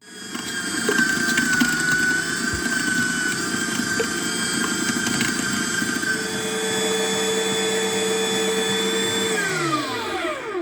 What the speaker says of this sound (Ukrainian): М'ясо ми беремо, перекручуємо на м'ясорубку і зробимо фарш.